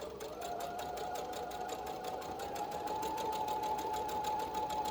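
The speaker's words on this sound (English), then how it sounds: "you're going to just continue to sew until you get all the way down to the end" A sewing machine runs steadily along a straight seam for a homemade lip balm holder, its rapid, even needle rhythm continuous and close throughout with no talking.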